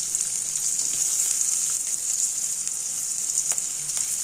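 Steady, close sizzling of small onions and garlic sautéing in hot oil, a continuous crackling hiss with occasional brighter pops and no voices.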